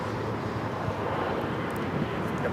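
A Porter Airlines Embraer E195-E2 taking off at LAX, a broad steady jet roar with wind rush, constant and fairly loud for the whole short stretch, with no talking.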